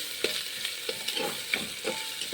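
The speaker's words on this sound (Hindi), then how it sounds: "सबको हमको अच्छी तरह से इस तरह से मिक्स कर लेना है। देखिए इस तरह से भून लेंगे।" Masala with turmeric powder roasting in a pan for pav bhaji, a soft continuous sizzle broken by regular scraping strokes of a spoon, close and without talk.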